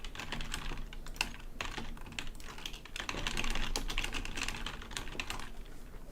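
Steady typing on a computer keyboard, rapid irregular key clicks close to the mic continuing throughout, with a brief denser burst midway and no talk.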